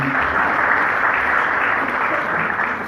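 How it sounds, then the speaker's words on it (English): A crowd at a talk on Coke Studio Pakistan applauds the Coca-Cola company people and house band, dense, loud and even clapping that fills the room without letting up. "So clapping for all of them."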